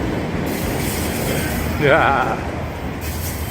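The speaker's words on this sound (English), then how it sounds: "there's a train right here." A metro train rolls past on nearby rail tracks with a steady loud rumble, and a brief wavering wheel squeal rises midway as a voice speaks once.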